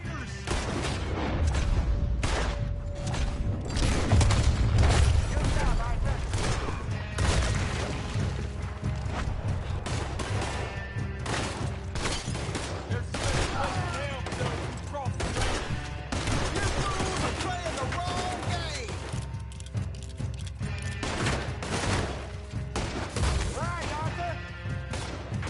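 A video game gunfight inside a building, with loud, dense gunshots and crashing impacts almost nonstop over shouting voices and a tense music bed.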